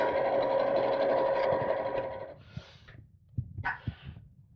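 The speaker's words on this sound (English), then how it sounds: "So longer stitch again because it's top stitch, and just sew all the way around." A sewing machine runs steadily at close range, top stitching around a purse organiser with a long stitch, a continuous whirring hum for over two seconds, then stopping, followed by a few short bursts and soft handling clicks.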